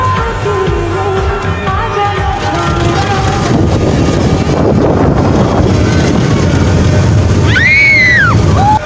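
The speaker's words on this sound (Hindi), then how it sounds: "तो यार कुछ ज़्यादा ही तेज़ हवा चल रही है" Strong wind roars and buffets the microphone continuously on a moving amusement ride, loud and close, with a brief whistling sweep near the end.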